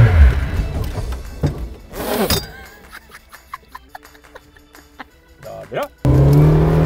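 A car engine revs under a driver pressing the gas during a drifting stunt, the roar rising in bursts between clinks and mechanical sounds, with people talking and shouting over it and a loud, steady engine drone at the end.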